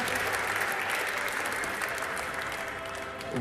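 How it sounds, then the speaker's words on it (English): Sustained audience applause fills a handball tournament draw ceremony on stage, a dense steady clapping from a large crowd that holds at an even, fairly loud level throughout. "Big applause."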